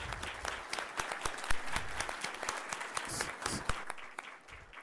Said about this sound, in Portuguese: Eu queria uma salva de palmas para os dois palestrantes.